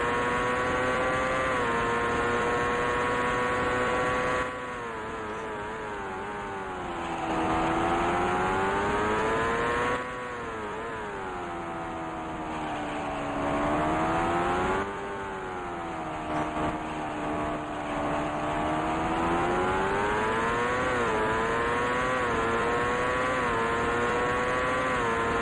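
Race car engines in the Indycar Racing II video game at a 1989 Long Beach Grand Prix, a sustained loud whine that rises and falls repeatedly as the cars accelerate and shift, with no talking.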